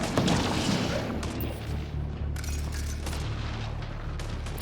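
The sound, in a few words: enemy gunfire in Mass Effect Andromeda video game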